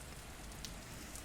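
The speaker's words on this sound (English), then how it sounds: "Actually, I think it's starting to rain." Rain falling on a cozy fall night, a steady soft hiss of drops on a surface with a few faint taps, brief and without talk.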